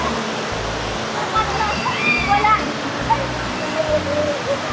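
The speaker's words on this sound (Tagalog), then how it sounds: "meron siyang pa waterfall effect mula dun sa may bandang taas" Water rushes steadily from a waterfall feature flowing down from higher up at Tala River Park in Cavite, a constant broadband roar with faint voices in the background.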